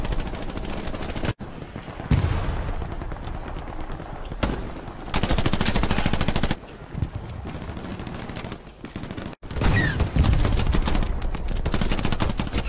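Rapid automatic video game gunfire in loud sustained bursts, with bullets cracking against enemy soldiers' helmets for headshots; the volleys stop and start abruptly, with brief dips between them.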